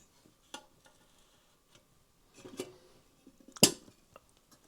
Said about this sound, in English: Now, as usual, we'll be putting the kettle on.